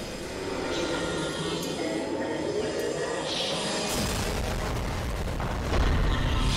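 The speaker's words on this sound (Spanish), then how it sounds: "aquí siempre están las explosiones a tope." Loud, continuous rumbling explosions and booming blasts fill a Skibidi Toilet animated battle scene, dense and heavy, swelling even louder near the end.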